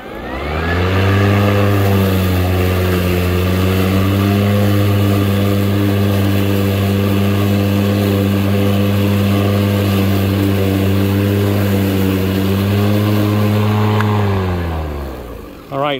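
An EGO battery lawn mower cuts grass, a loud steady electric hum with a strong constant tone that spins up at the start and winds down near the end, close by.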